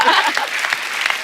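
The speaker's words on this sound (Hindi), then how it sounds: "तालियां तालियां।" Studio audience applause on a comedy talk show, a dense burst of clapping filling the short moment at steady loudness.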